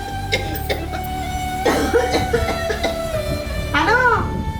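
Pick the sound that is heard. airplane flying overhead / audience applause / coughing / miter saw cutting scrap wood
coughing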